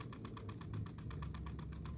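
A miniature rice-field tractor's small engine runs steadily, a rapid, evenly pulsing putter with a low rumble, fairly quiet and close with no talking.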